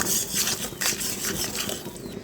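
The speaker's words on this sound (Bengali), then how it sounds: "এখন আমি সব কিছু সুন্দর করে ভেজে নেব।" Whole cumin, two bay leaves, two cardamom pods and two pieces of cinnamon frying in hot oil, giving a steady, close sizzle with busy crackling spatter and no pauses.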